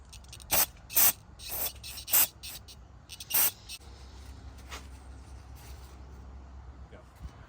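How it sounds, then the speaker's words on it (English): Short hissing bursts of aerosol cleaner are sprayed onto an idle air control valve removed from a car with a rough, inconsistent idle, five or six quick blasts close by over a low steady hum. "you want to spray it like I showed you, but you also want to spray into the little hole"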